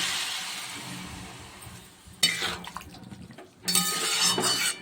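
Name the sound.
water poured into pan of papaya and potato curry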